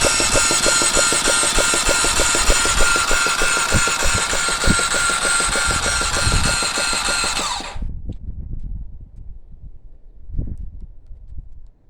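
A Honda 233cc engine swapped into a CTX200 frame runs at a loud, steady idle with a rapid chugging beat. It cuts off abruptly partway through, leaving quiet handling noises and a brief knock.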